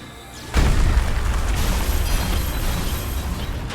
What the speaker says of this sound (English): Earthquake!